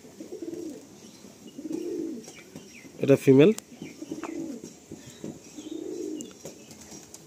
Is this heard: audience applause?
no